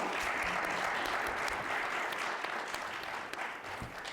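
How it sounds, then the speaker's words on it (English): Audience at a school board meet-the-candidates event claps to welcome the candidates, a fairly quiet but continuous round of many hands lasting about four seconds and tapering slightly at the end. "you can applaud and welcome our candidates"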